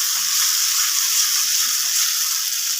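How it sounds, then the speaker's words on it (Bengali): Ground spice paste hitting hot oil in a pan for a Bengali macher jhal fish curry gives off a steady, bright hiss of sizzling, even and close, with no voices. "এবার আমি বেটে রাখা মশলাটা দিয়ে দিলাম।"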